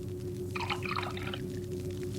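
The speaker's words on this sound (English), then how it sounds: "Fill the film container a little more than halfway to the top with water." Water pours briefly in a splashy burst into a film container over a steady low hum, then trails off.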